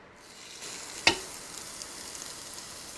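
NY strip steak sizzling on a preheated Ninja Foodi grill, a steady hissing sizzle with a sharp clack as the lid or meat settles early on, then continuous frying crackle.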